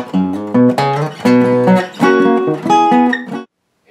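Electric guitar plays the second chorus riff of a song at a lesson pace, a run of plucked, ringing notes and chords with a short pause before one last note sounds.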